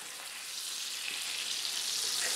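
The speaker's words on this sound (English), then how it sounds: "Now, I'm actually cooking mine in butter, proper butter, not margarine," Butter, real rather than margarine, sizzles steadily in a frying pan, a dense continuous hiss that builds slightly louder over the short stretch with no talking.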